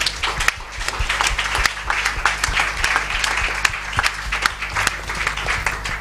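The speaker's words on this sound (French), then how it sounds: "Acclamons le Seigneur pour la semence." A church congregation bursts into sustained applause to acclaim the Lord during a Sunday service, many hands clapping in a dense, fairly close wash that keeps going steadily to the end.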